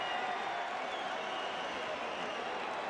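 A boxing arena crowd in Los Angeles at a heavyweight fight between Vitali Klitschko and Corrie Sanders roars and applauds in a dense, steady wash of cheering and clapping, sounding distant and continuous with no single voice standing out.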